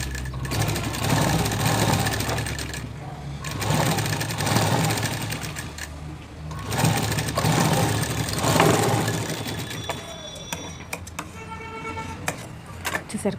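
A sewing machine stitches the front part of a blouse in steady bursts of rapid mechanical whirring, pausing briefly between runs, close and clear with no talk.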